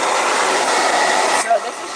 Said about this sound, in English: Give it a quick blow dry.